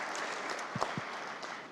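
Audience applause at the Asia Economic Dialogue 2025, a steady wash of clapping from a seated conference crowd that holds at an even level, with a couple of brief low knocks partway through.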